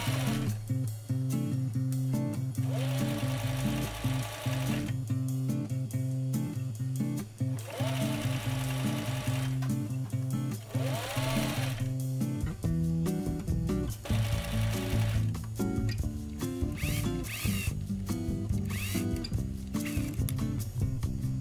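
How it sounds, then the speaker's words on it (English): Sewing machine stitching the seams of a fleece beret hat lining, a steady mechanical whir running in bursts with brief pauses, close and fairly quiet, with no talking. "Start stitching and line up the next seams as you sew on the previous stitch."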